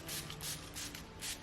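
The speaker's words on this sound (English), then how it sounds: "Now I'm just gonna spray my face with some setting spray." Several short, breathy bursts of NYX matte finish setting spray hiss in quick succession onto a face, close to the microphone, with a soft rustle between them.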